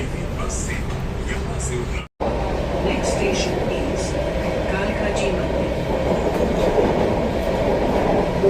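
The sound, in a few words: underground metro train at Jangpura station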